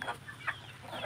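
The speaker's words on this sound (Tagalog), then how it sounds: "Ayan, nagkakagulo na naman yung mga manok." Farm chickens clucking in a noisy commotion at feeding time, several birds calling over one another in short bursts, close and fairly loud.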